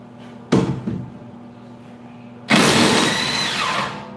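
Two bursts from an impact wrench loosening a nut through a 13 mm non-impact socket, a short rattling hit followed by a longer, loud sustained hammering run, close by with no talk.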